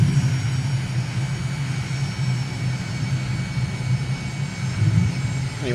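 Steady, loud aircraft engine drone on landing approach in Microsoft Flight Simulator, with full flaps and gear down on final approach to Castries, Saint Lucia, holding a constant rumble with a faint whine throughout and no talk.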